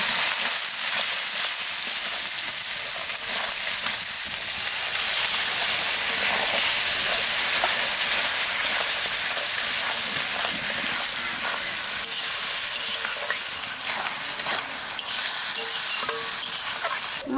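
Ground cumin, coriander, Kashmiri chili, turmeric and salt frying in a pan for a fish curry, a loud steady hiss and sizzle with faint scraping of stirring, continuous and close for the whole stretch.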